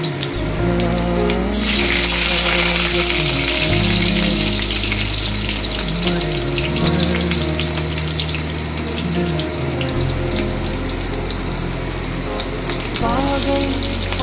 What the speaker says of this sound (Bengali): আলু ফ্রাই করে নেব।